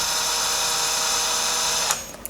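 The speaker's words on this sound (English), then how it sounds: "You will tighten this down just until the point of contact" A bolt being driven into a bicycle brake rotor with a small power driver, a steady high whirring buzz that holds for about two seconds, then cuts off with a brief click, close and loud, no voices.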